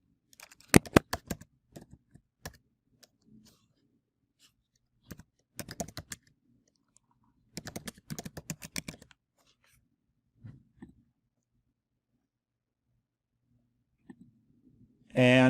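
Typing on a computer keyboard while writing a message subject, several separate quick bursts of close key clicks broken by pauses, with a sharper sound at the very end.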